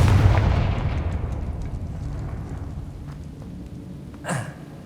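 A Confringo fire spell bursts in Hogwarts Legacy with a deep booming blast that rolls away into a long fading rumble, followed by a short sharp crackle near the end.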